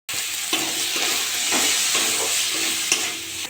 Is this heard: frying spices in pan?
yes